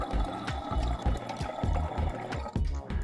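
Water pours steadily into a fountain in the video game Machinarium, a continuous rushing flow layered over a rhythmic mechanical thumping that repeats throughout, with no talking.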